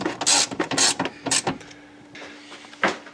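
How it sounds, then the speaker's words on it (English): A ratchet tightens bolts holding a Mazda Miata convertible top, several quick bursts of clicking with short pauses between, close and clear with no talk. "now tighten your 3 bolts holding the top on."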